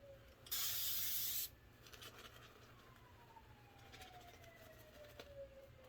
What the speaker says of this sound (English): Got some sirens going outside.